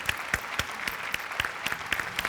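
Loud, dense audience applause on a Marathi TV comedy show, with sharp claps rising and falling in steady waves and no speech over it.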